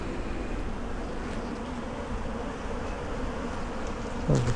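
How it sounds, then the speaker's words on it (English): Honey bees crawl and hum over the hive frames of a strong colony, a steady close buzz throughout that ends with a brief louder bump. "We've got bees moving around on every single frame."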